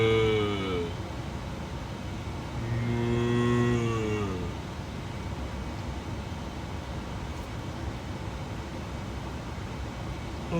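A person imitates a cow's moo with their voice, two drawn-out lowing calls close to the mic, the second longer and rising, followed by quiet room noise.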